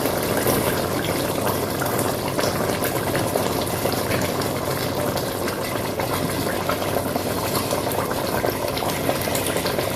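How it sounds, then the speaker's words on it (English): Rice pours into a pot of bubbling red palm oil jollof sauce, a steady close wash of liquid churning and gushing without pause. "Now I'm going to add in the rice."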